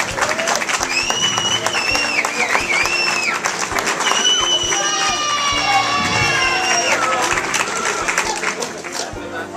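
An audience at a school farewell evening bursts into loud, sustained applause with cheering and shouts, a dense crowd roar lasting throughout while whistles and a voice ring out over it.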